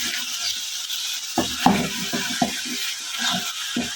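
Ridge gourd (tori) being stirred in a hot pan, with a steady soft sizzle and several sharp scrapes and clinks of a spoon against the pan, close and free of talk.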